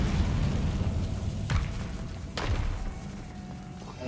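Incendio fire spell cast in Hogwarts Legacy, heard as a couple of sharp whooshing bursts over a dense, rumbling game background.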